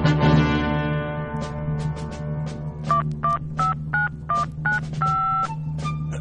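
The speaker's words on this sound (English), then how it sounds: "A phone call to Americans." Telephone dialing tones from an Albert Brooks comedy record: a falling tone gives way to a quick series of evenly spaced dial beeps, loud and clear, with no talking.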